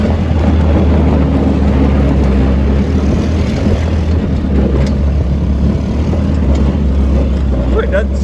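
A Yerf Dog go-kart, an abandoned machine pulled from an Idaho snow bank, being driven with a steady, loud small-engine drone and constant low rumble throughout, with a voice speaking over it.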